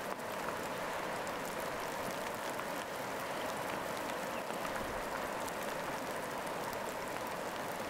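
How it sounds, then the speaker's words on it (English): Steady rain patters gently against windows in a secluded treehouse retreat, forming a soft, even, continuous hiss with no distinct drops standing out. No one speaks. "The rain continues to tap gently on the windows, a soothing backdrop to your secluded retreat."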